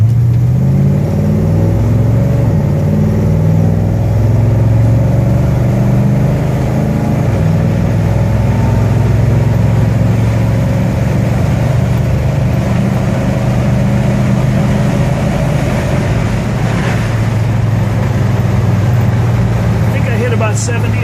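A 1964 Chevelle convertible engine pulls hard as the car accelerates along a road, a loud, continuous mid-range drone rising steadily in pitch from inside the car, with someone speaking briefly over it.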